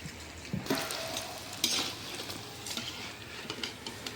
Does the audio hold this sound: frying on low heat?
yes